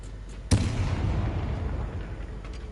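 In the Hogwarts Legacy video game, the Bombarda explosion spell goes off with a sudden loud blast followed by a rumbling, booming tail that slowly fades.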